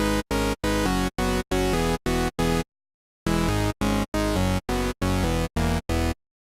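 A synthesizer sequence from an initialized patch for a lead sound plays buzzy, harmonically rich notes in short gated bursts, a rhythmic run, a pause of silence, then the pattern repeats, loud and with no talk.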